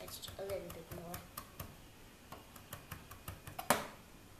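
A knife chops food on a board for a Sri Lankan omelette, giving a series of sharp, evenly spaced taps, about a dozen, with a brief voice early on and a harder final strike near the end.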